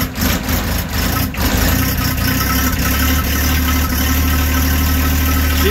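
A John Deere 1025R compact tractor's diesel engine idling after a cold start, with a rough, steady low drone and a slightly uneven note, loud and close, with no talking.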